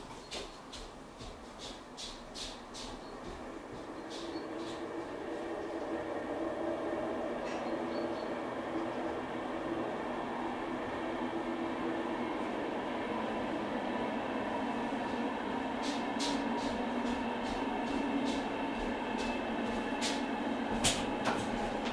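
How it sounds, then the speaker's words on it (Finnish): A train rumbles past steadily for the whole stretch, with rhythmic clicks of wheels over rail joints rising near the end. "Juna meni siitä."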